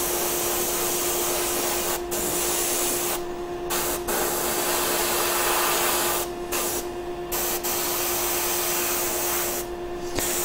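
Airbrush spraying paint onto model armor plates, a steady close hiss that runs almost continuously with a few short breaks and a faint constant whine beneath.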